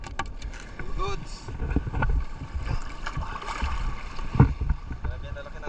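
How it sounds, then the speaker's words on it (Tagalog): Rough water slaps and surges around a small fishing boat at sea among big waves, steady wash with wind buffeting the microphone and occasional splashes, no talk over it. "Grabe ang lalaki na alon."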